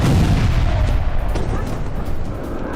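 An Iranian Haj Qasem guided ballistic missile attack, heard as a dense, roaring rumble of booms and blasts that stays loud throughout the short stretch.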